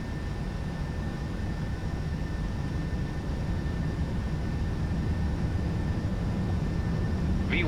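An airliner accelerates down the runway on its takeoff roll in a flight simulator flying Dublin to Glasgow in low visibility, a constant loud engine roar with a thin steady whine running throughout.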